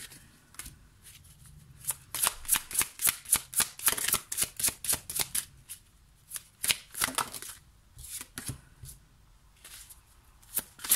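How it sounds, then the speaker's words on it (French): Oracle cards are shuffled and laid out by hand, a close run of crisp riffling and slapping sounds in quick bursts with short pauses between them, with no talk. "je vais mettre 3 cartes pour chaque pierre"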